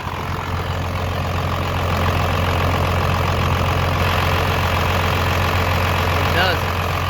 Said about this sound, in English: I've never seen anybody do a video with the motor running and looking at the star wheel